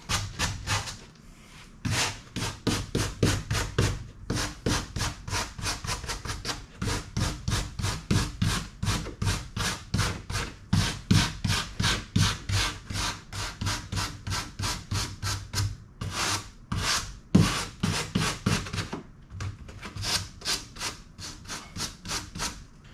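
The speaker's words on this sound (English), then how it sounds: "I could scrub this and scrub this and scrub this and still feel like I'm getting more off." Truck headliner fabric from a Chevy Silverado Crew Cab is scrubbed by hand in quick, rhythmic back-and-forth rasping strokes, close and steady over about twenty seconds with a couple of brief pauses.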